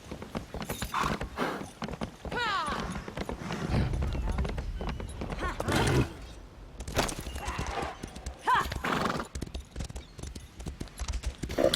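Rhythmic clip-clop hoofbeats of a galloping horse in Elder Scrolls Online, with a whinny, repeated steadily as someone talks over the gameplay.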